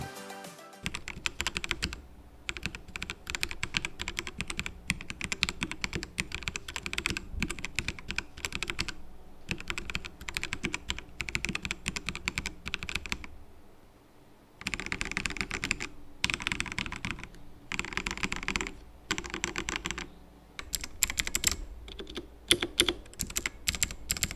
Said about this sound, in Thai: หลังจากนี้ก็ไปฟังเสียงของสวิชกันดีกว่าครับ ว่าสวิชทั้ง 2 แบบเนี่ยให้เสียงเป็นยังไงกันบ้าง